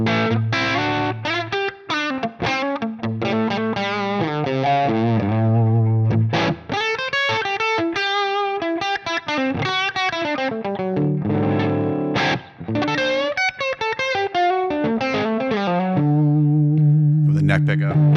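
An electric guitar plays through an HX Stomp modeler on the Interstate Z amp model with stock settings, a driven, slightly distorted tone carrying a continuous melodic phrase with sustained notes and quick runs.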